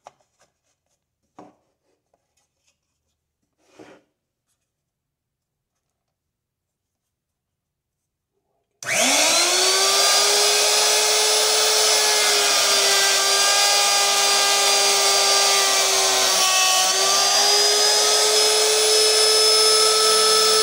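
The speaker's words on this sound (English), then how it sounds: "we're going to use a 1/4 inch cove bit here to put a cove on the top" A router table with a 1/4 inch cove bit cutting a cove along the top of a scrap lumber board, a few faint taps, then a loud, steady high-pitched motor whine that runs on to the end.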